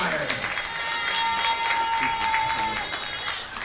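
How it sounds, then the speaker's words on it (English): Scattered crowd clapping rises in the stands before a football game between the Fighting Fish and the Hastings Hawks, continuous and moderately loud, with a voice over the public address underneath. "Again, another round of applause for West Johnson Credit Union, Lily Griffith"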